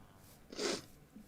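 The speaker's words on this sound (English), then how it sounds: "Sneeze." A single short sneeze, faint and alone, brief and breathy, with quiet room tone around it.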